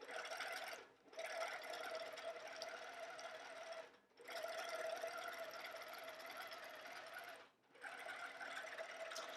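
A Handi Quilter Forte longarm quilting machine guided by Pro Stitcher stitches edge to edge on a quilt, giving a steady close mechanical hum that stops briefly three times before resuming.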